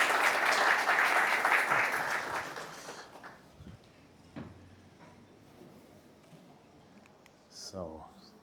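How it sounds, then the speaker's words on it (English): Audience applause fills the room at a public lecture during an AI workshop and hackathon, loud and dense for about three seconds before thinning into scattered claps and quiet room noise. "could we give these guys a round of applause?"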